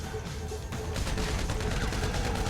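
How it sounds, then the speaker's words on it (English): Gunfire in the online video game GTA 5 Online crackles in rapid, dense bursts over a loud, busy game soundscape, steady throughout with no talk. "Gunshot."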